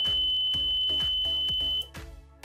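A piezo buzzer in a simple 5V laser-diode alarm circuit with a latching relay sounds a loud, steady high-pitched tone under rhythmic clicking, then cuts off abruptly near the end.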